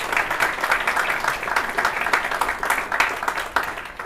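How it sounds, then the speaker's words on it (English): Audience applause fills a sports awards ceremony: steady, dense clapping from a sizeable crowd, loud and close, running the whole time with no talk over it. "I think we should have one more round of applause for our Bridia Yorker, Sandra."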